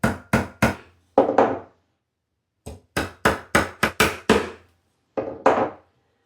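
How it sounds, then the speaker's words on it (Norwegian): Nails are hammered into the corners of wooden beehive frames: sharp, close hammer blows come in short bursts of two to six, with quiet pauses between the groups. "Og så slår vi en spiker ned i hvert hjørne."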